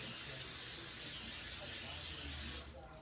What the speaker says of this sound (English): Spray it with some vegetable oil.